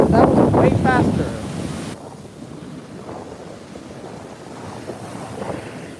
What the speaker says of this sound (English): Oh, most ocean waves are getting big.